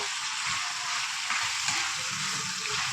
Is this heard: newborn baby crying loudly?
no